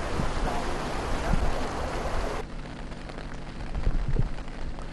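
Steady rain falls over a rural district in northern Thailand, a dense continuous hiss that drops in brightness partway through but keeps pattering on without pause.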